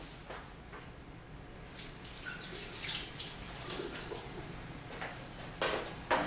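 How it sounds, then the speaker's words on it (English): Hands being washed under a running tap, a steady wash of flowing water with small splashes and drips, fairly quiet and close, with no talk. "I'm going to wash my hands."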